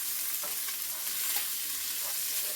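Ground taco meat for a taco potato bake sizzling in a pan as it is stirred, a steady close hiss of frying with soft scraping strokes and no talk.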